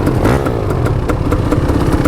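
Honda CR480 open-class two-stroke motorcycle engine revving hard, a loud raspy buzzing drone with rhythmic pulsing, close by and dominating with no voices.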